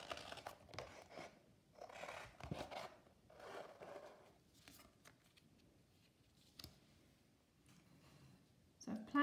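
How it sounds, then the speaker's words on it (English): Scissors cut out a card backing for a Roman-style brooch. Quiet snips and papery crinkles come in short irregular bursts, faint and close. "now, you guessed it, I'm going to cut it out."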